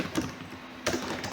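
Quick keystrokes on a computer keyboard come in short, soft bursts of clicks with a pause between them, close and quiet.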